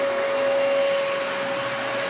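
A Hoover WindTunnel 2 Rewind Pet or Dyson DC33 upright vacuum cleaner runs at full power, a loud, steady rushing roar with a constant high whine, close and uninterrupted, with no voices.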